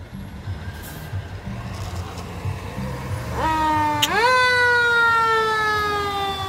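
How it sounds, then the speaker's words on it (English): An ambulance siren rises in the distance amid city street noise, sweeping up loudly and growing steadily nearer over a low rumble of traffic. "I can hear the ambulance coming."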